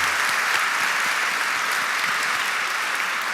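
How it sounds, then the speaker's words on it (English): Steady audience applause at a televised political debate, a dense even patter of clapping hands held at constant loudness throughout with no voices over it. "A quick round of applause for the lightning round"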